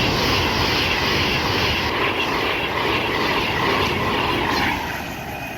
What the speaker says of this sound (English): here is a Pendolino